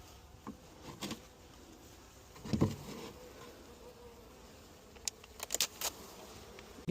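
Bees buzz faintly around an apiary hive during an inspection in a forest garden, a soft, thin drone with a few brief, louder passes of individual insects flying close.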